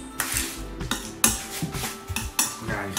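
Egg mixture with Thai bird's eye chili for a prawn omelette is mixed with a utensil in a bowl, giving close, rhythmic clinks and scrapes about every half second, with no talking.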